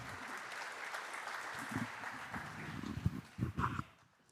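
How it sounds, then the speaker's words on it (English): An audience at a cultural and musical showcase applauds a Cree singer, a dense sustained round of clapping that swells and then tapers toward the end, with a voice briefly rising over it. "Ladies and gentlemen, let's give her a round of applause at this time"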